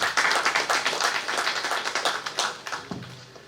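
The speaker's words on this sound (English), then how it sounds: "can we appreciate our sponsors with a huge round of applause?" A conference audience at a national project-management event gives a round of applause for the sponsors, with distinct rhythmic claps close together at first, then thinning and fading out toward the end.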